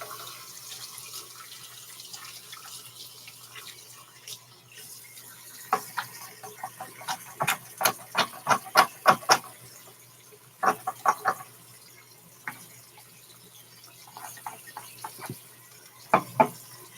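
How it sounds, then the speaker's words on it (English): A bathroom tap runs while hands are washed, giving a low steady water wash with a cluster of sharp splashes and knocks in the middle and near the end, close by and moderately loud, with no talking. "Just gonna wash my hands real quick."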